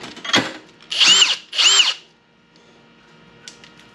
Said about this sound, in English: I'm going to drill a hole in the top